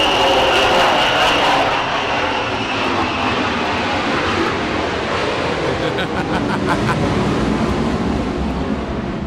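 A jet aircraft passes at an airshow with a loud, broad continuous roar that swells and holds for the whole stretch, a voice faintly audible underneath.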